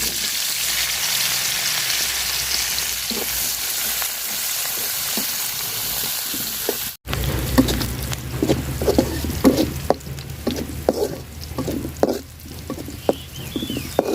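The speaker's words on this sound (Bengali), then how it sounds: "তো মাছ ভাজার তেলে আমি পেঁয়াজ আর মরিচ দিয়ে দিলাম" Onion and chili hit hot oil left over from frying tilapia, crackling in a steady, close sizzle that turns busier and louder halfway through, with bursts of stirring and popping.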